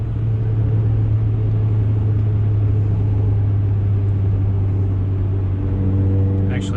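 A Chevrolet Cobalt SS pulls in a gear roll, its engine holding a loud, steady low drone close to the microphone, with no talking.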